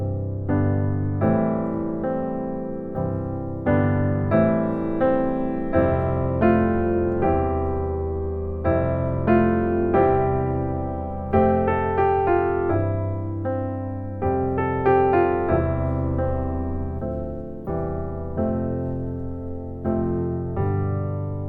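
Solo piano plays an easy, familiar song with reharmonized chords: a steady sequence of struck chords and melody notes with ringing sustain, clear and close, no voices.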